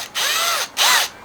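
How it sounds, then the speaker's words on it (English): A power drill running in reverse on a gypsy wagon build whirs up twice in short bursts, each a rising then falling motor whine, close and fairly loud, with no talking. "set the drill to reverse."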